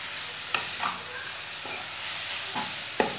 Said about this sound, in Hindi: 5 मिनट तक मैंने चम्मच चलाते हुए गाजरों को भून लिया।